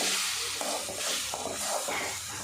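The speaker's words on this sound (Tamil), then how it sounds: "மூணு தக்காளி பழத்தை அரைச்சி வச்சுருக்கேன் அந்த விழுது நான் சேர்த்துக்கிறேன் நல்லா மிக்ஸ் பண்ணிவிட்டு" Ground tomato paste is stirred into green chillies frying in a pan for egg curry, giving a steady close sizzle with soft scraping stir strokes throughout.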